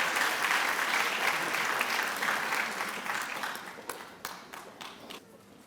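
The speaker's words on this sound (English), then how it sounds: "Can we give a round of applause" Applause from the audience at a spring master's hooding ceremony, a steady wash of clapping that gradually fades, thinning into a few scattered claps near the end.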